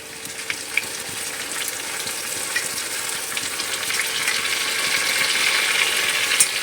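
Ginger garlic paste frying in oil with already browned onions in a pan makes a loud, continuous close sizzle with scattered sharp crackles, building gradually stronger over several seconds, with no talk.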